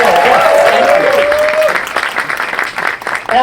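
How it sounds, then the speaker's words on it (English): A concert audience at the 2024 Singing with the Desert Stars show bursts into loud, sustained applause, with a whistle-like tone rising above the clapping early on before the ovation thins and swells again. "they will bask in your earth-shattering applause and cheers"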